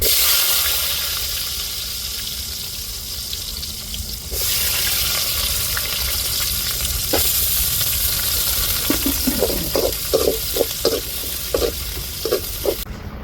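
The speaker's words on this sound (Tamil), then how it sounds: "இப்போ வெங்காயத்தை சேர்த்துருவோம்" Onions hit hot oil with mustard seeds in a pan, giving a steady loud sizzling hiss, followed later by a series of sharp pops and spits as the frying goes on.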